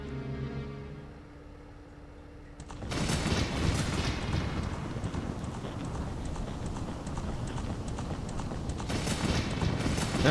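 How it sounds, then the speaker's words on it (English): Galloping horse hooves from the video game Zelda: Ocarina of Time, a steady rapid clip-clop rhythm that starts a few seconds in after a quiet musical passage and continues to the end, moderately loud. "Yeah, that's him riding a horse."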